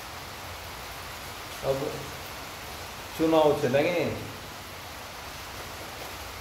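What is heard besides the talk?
heavy rain falling outside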